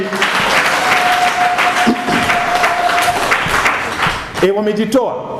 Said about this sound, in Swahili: Sasa kwa nini tusiwapigie makofi?